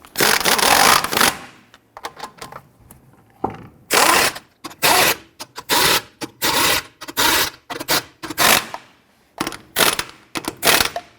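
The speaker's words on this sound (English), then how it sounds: "Once we have all these started, let's go ahead and snug them down." Lug nuts being snugged down by hand tool on the front wheel of a Nissan Frontier pickup, loud close bursts of rapid ratcheting clicks repeating in short runs with gaps between, no talk.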